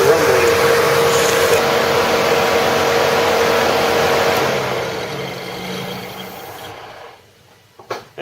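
A 2001 Mazda MPV radiator cooling fan and engine bay rumbling loud and steady after the engine is shut off, then winding down and fading out, followed by a few sharp knocks.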